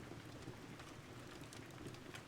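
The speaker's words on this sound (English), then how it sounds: "The soothing sounds of the rain and the crackling fire growing a little fainter" Soft, steady rain patters continuously at low volume as a faint, even wash of drops with no voices.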